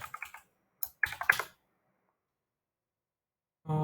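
Computer keyboard typing while entering CSS code, with a short burst of quick key clicks, a denser cluster about a second later, then a pause before a low sound at the very end.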